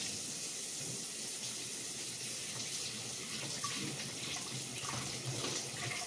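A kitchen faucet runs steadily while a utensil is washed by hand after handling raw meat, giving a continuous close hiss of water with light splashing and occasional clinks.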